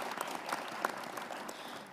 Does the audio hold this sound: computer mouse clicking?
no